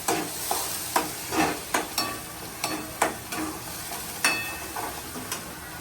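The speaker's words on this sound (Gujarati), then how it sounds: "ટામેટાની ગ્રેવી, એને બરાબર હલાવી લેવાનું." Tomato gravy stirred in a pan, a spoon scraping in a steady series of taps and swishes over a light continuous sizzle, close up with no voices.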